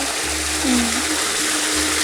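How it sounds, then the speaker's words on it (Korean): Water pours steadily at a small waterfall, likely an indoor or garden water feature, as a loud, continuous rushing hiss with a faint low hum beneath. "폭포죠 폭포 네. 폭포예요"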